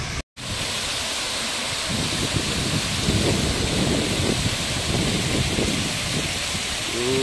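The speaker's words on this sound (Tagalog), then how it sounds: "So ito yung hidden falls po niya" Hidden waterfall roaring steadily with dense broadband rushing water, loud and continuous throughout after a brief dropout at the start.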